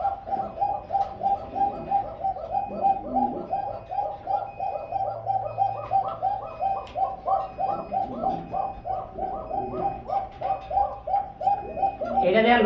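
Pet pigeons at a pigeon seller's, giving rhythmic, repeated cooing calls close by, one coo after another throughout, with faint background sounds and no speech over them.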